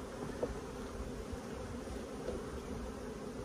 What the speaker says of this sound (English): They're nice bees to work with